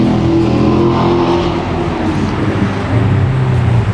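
Steady traffic noise from a busy main road outside a BMW workshop job, a continuous low rumble of passing cars and engines holding level throughout with no voices.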